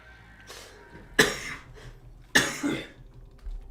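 Two sharp, forceful coughs from a livestreamer during a Borderlands gaming session, spaced about a second apart, with softer throat sounds and breaths around them, close to the mic and otherwise fairly quiet.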